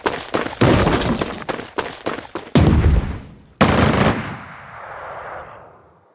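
Rapid machine-gun bursts and gunfire in the Strategic Mind: Blitzkrieg war game, loud and close, coming in several stuttering volleys before a final burst trails off into a fading rumble.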